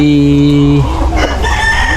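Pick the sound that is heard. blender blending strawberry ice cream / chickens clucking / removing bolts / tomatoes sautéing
chickens clucking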